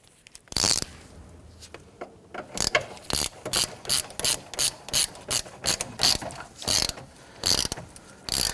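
A ratchet snugs down the battery hold-down bar on a 2011-2015 Kia Sorento, making rapid, close clicking in a steady run of short strokes.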